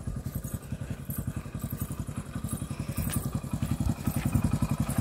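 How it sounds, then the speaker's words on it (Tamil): A motorcycle engine idles nearby outside a temple, a steady low rapid putter with a faint clattering edge, moderately loud and continuous. "வண்டி எடுத்துகிட்டு வந்துட்டாங்க"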